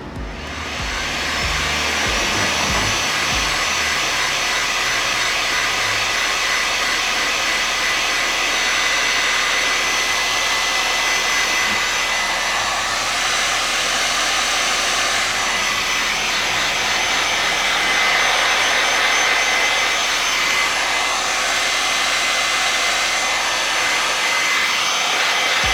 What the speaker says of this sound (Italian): e ora col phon andiamo a scaldare.